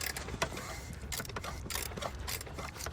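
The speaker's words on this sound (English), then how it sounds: "I got a wrench on the crank here, and we're going to rotate the motor until we get those lobes up" A wrench turns the crankshaft of a BMW E46 M3 engine, giving close, quiet metallic ratcheting clicks and creaks that come in uneven bursts against a low background hum.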